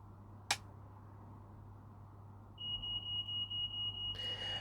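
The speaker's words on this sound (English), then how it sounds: "someone in my family has set off the smoke alarm again" A household smoke alarm sounds a sustained high electronic tone that turns into rapid repeated beeping, faint and somewhat distant, following a single sharp click.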